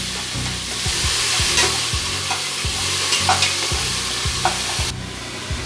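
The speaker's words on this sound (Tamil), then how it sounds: "பச்சை வாசனை போகிற வரைக்கும் வதக்குங்க" Steady sizzling as ground onion paste fries in a pan, with repeated scraping strokes of a spoon stirring at a regular rhythm, no voices.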